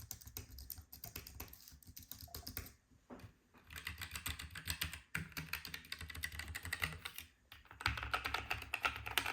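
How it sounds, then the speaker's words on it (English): Continuous quick keystrokes on a heavily worn Apple Magic Keyboard, a close, soft, flat tapping patter with short breaks between bursts. "It's a very used Magic keyboard."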